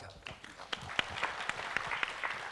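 Audience applause at a Thai corporate technology showcase honoring a telecommunications company manager, a fairly quiet, loose scatter of individual claps from a modest crowd lasting a couple of seconds.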